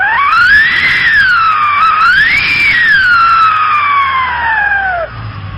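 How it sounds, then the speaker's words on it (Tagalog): A motorcycle fitted with a whistle muffler pipe lets out a loud, piercing siren-like whistle that rises, dips and swoops in pitch as the engine revs, then cuts off near the end. "Ayan lang design whistle muffler."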